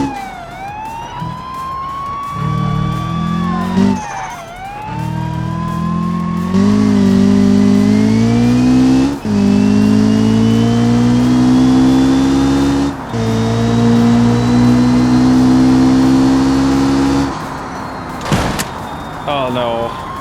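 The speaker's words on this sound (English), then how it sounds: "Can't steer while I'm starting up the motor here." In the BeamNG video game, a street car's engine starts and revs repeatedly, each rise a climbing harmonic whine, with brief gaps, clunks and a few short bursts between the revs, loud and close.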